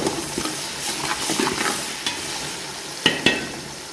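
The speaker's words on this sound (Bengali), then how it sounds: "এটা আমরা ভালো করে ভাজি করবো" Onion, chilli and cumin frying in a pan while being stirred, a steady close sizzle broken by scraping strokes and two sharp clacks near the end, with no voices.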